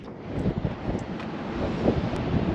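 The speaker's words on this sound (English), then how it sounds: "that wind's coming right off the shore" Gusty onshore wind on the Connemara coast of Ireland buffets the microphone with low rumbling thuds, rising and falling irregularly throughout, with no voices.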